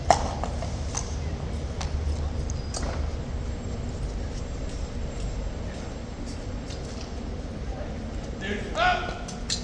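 Horse hooves clip-clop on pavement at Horse Guards, where a Life Guards horse stands and shifts. Scattered hoof knocks sound over steady street and crowd noise, and voices can be heard in the background.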